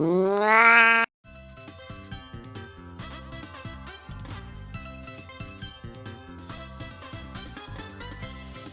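A cat meows in a single rising, wavering call lasting about a second, close and fairly loud, followed by steady game music.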